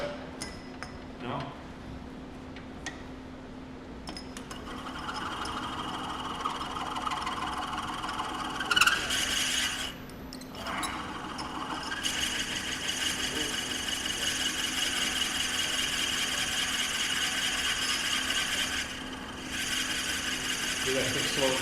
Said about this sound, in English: I'm going to be drilling for a while.